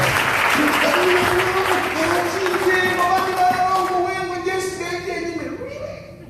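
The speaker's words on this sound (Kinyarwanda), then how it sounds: "Tuyikoma n'amashyi" Congregation applauding during a church service, loud sustained clapping with cheering, while a voice keeps talking or singing over it, then the clapping fades toward the end.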